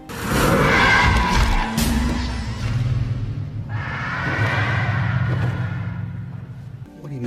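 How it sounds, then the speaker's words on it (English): A car skids with a long, loud tire screech building early, then a second drawn-out squeal with engine roar following, close and intense throughout. "Was that a car?"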